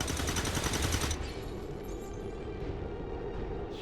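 Sustained rapid-fire gunfire from the XCOM 2: War of the Chosen video game, loud and dense for about a second, then trailing into a rumbling, crackling decay.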